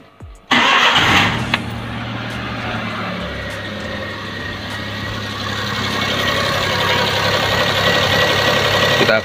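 A car engine cranks and catches after a moment of quiet, then settles into a steady idle, close and loud, during a morning test of a graphene oil supplement.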